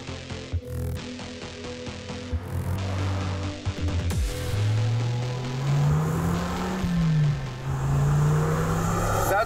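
A 1994 Dodge Viper's engine revs while driving, a low throaty rumble rising and falling in pitch after a brief sharp blip, with wind noise and faint voices.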